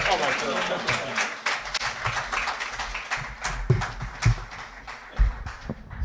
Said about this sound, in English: Let's bring him on with a loving round of applause.